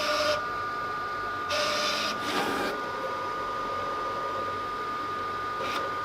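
A vinyl cutter loads a sheet of silver glitter heat transfer vinyl, giving a steady electric hum with short bursts of whirring motor and rollers feeding, close and mechanical.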